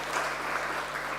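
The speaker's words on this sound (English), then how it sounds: "Give a big round of applause to her." An indoor audience applauds at a talk, a steady dense wash of clapping that fills the whole short moment with no voice over it.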